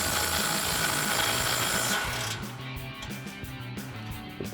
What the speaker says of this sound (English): grab our 19mm socket on our impact and remove the 2 bolts holding our knuckle to our lower ball joint.